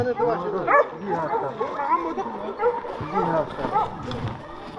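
Several Yakutian laika dogs yip and bark at a dog show, brief excited calls scattered through steady nearby talk.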